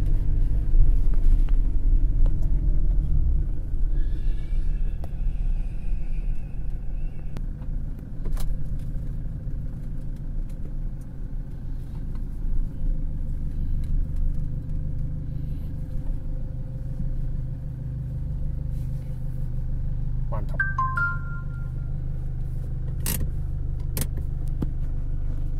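A Toyota Innova with a freshly overhauled 2KD common-rail diesel pulls in second gear, a steady low engine drone and cabin rumble throughout, with faint interior rattles and a brief squeak.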